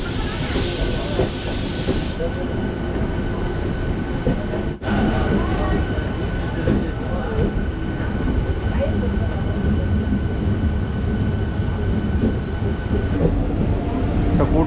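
A crowded Chennai–Tirupati MEMU train pulls out of Arakkonam Junction, its steady rumble and hiss running loud throughout with one sharp knock early on, while passengers chatter in the background.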